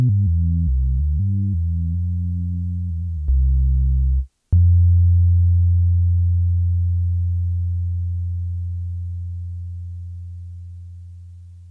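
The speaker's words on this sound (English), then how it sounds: "Okay, so that's our basic sustain tone." A basic sustained synth tone from Surge XT set up as an MPE bass guitar patch: low pure notes shift in pitch at first, then settle into one long, smooth held bass note that slowly fades.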